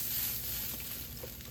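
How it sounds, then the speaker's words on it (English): Butter sizzles in a hot frying pan used for pork schnitzel, a faint, steady hiss that continues throughout without talk. "I love the sizzle."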